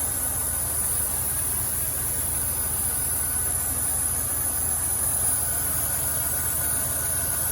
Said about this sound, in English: Here's the vacuum leak.